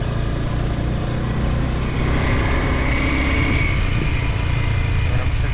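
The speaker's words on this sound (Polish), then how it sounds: "I wszystkie te motorki mnie wyprzedzają." Small motorbikes carrying schoolchildren roar past on a road on Koh Rong island in Cambodia, a loud continuous engine drone that swells as they overtake, with no talk.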